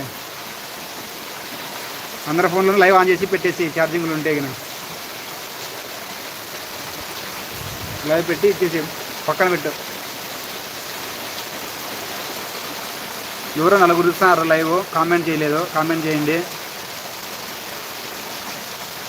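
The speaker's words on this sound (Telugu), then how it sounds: "మా ధర్మవరంలో అయితే భారీ వర్షాలు" Heavy rain falls steadily in Dharmavaram, a constant broadband hiss that continues under several short bursts of nearby talking.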